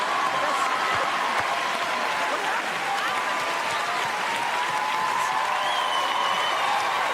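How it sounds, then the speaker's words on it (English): Audience gives a comedian sustained, even applause that holds at a steady level from start to finish, mixed with faint crowd voices. "Please give Howie Mandel a huge round of applause."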